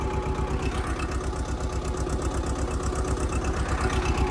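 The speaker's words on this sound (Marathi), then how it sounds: "अंदाजे आपण नऊशे हजार आरपीएम वर ट्रॅक्टर चालू आहे" A tractor engine runs steadily at moderate speed, a continuous rhythmic diesel chug with mechanical vibration, close by and without voices.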